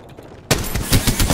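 Rapid automatic gunfire erupts suddenly in an Apex Legends match, a loud, dense burst of close shots following a brief quieter moment.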